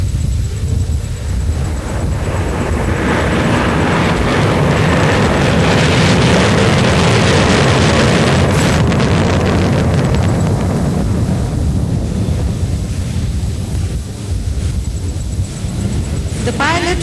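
A Sukhoi Su-30 MKI fighter jet of the Indian Air Force flies past at the Vayu Shakti 2010 air show, producing a loud, continuous, rumbling engine roar that swells toward the middle and stays heavy for the whole stretch.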